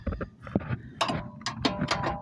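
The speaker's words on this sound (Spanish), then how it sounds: "Entonces voy a sacarlo así con la pura llave." A wrench turns a bolt out of the suspension of a 2016 Dodge Journey during a ball joint and control arm job, with close, quick metallic clicks and ratcheting taps.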